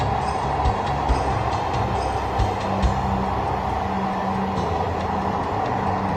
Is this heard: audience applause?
no